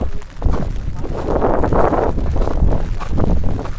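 Strong wind sweeps across an open, exposed island and buffets the microphone with loud, steady roaring gusts that never let up.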